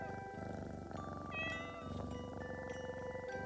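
Cartoonish cat meows from the Pocket Mirror video game, several overlapping calls over a steady bed of game music, fairly loud and close throughout.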